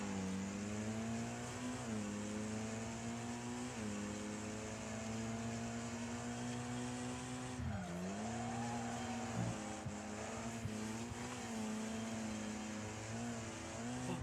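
Race car engine in the Wreckfest video game, a continuous droning whine whose pitch dips and swoops as the car slides and regains grip, steady and alone without talk.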